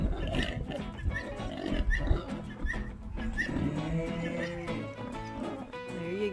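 Several pigs grunting and oinking close by in a noisy pen, overlapping snorts and squeals throughout.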